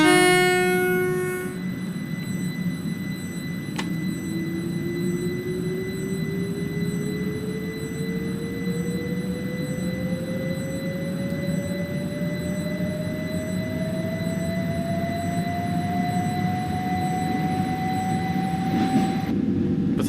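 A London Overground Class 378 electric train in Train Simulator 2022 hums as it runs, its traction whine rising slowly in pitch as it accelerates, with steady rumbling wheel noise throughout and a sharp click early on.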